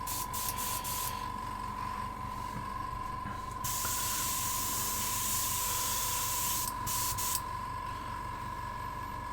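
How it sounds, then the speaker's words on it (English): An airbrush sprays cleaner through its nozzle to clear out leftover paint gunk. It makes close, loud hissing bursts with short breaks between them. "I'm just cleaning the airbrush because it has a little bit of goop in it."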